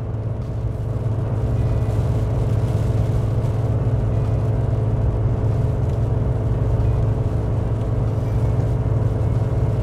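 A Chevy 1500 pickup's 2.7L turbo four-cylinder (L3B) hauls 8,000 pounds up a grade at about 3,200 RPM, making a steady, loud, rumbling drone that holds without letup.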